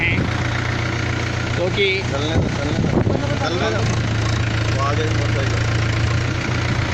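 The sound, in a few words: tractor engine running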